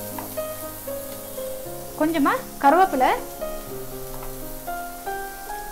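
Steady sizzling of garlic, curry leaves and green chillies frying in ghee in a pan, with a voice speaking and a short burst of singing over it partway through.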